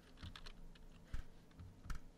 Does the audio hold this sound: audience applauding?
no